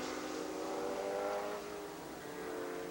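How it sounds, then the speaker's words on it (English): An air-cooled single-turbo Porsche IMSA GTP race car at Sears Point circles the track, its engine a steady mid-distance drone with harmonic whine that swells slightly then eases, heard alone with no talk. "Wallach has climbed in to the air-cooled single turbo Porsche"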